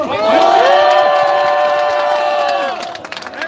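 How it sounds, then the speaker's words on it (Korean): A rally crowd outside the National Election Commission cheers and claps, a loud sustained shout of voices ringing over dense clapping, then easing after about three seconds into scattered claps and calls. "이런 분들께 박수 한번 주십시오"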